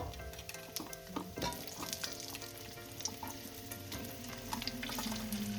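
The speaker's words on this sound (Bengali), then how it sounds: "আলুটা ফোড়নের সাথেই ভেজে নেব" Diced potatoes fry with tempering spices in hot oil, giving a soft continuous sizzle and crackle with occasional stirring scrapes and light clinks, fairly quiet and close.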